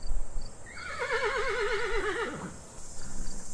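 A horse neighs in the video game Detective Hayseed - Hollywood, with a long wavering whinny that rises and falls and then trails off, loud and close, followed by a few soft clip-clop sounds.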